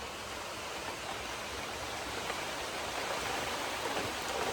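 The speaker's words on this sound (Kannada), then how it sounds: "ಈಗ ಜೋರು ಮಳೆ ಬಂತು." Heavy rain pours down in a dense, steady hiss that fills the whole stretch without pause, loud and close, with no voices over it.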